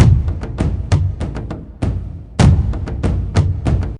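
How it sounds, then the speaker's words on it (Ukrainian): Loud drum beats thump out a lively rhythmic pattern, close and punchy, with a short pause midway before the beating resumes. "Барабан"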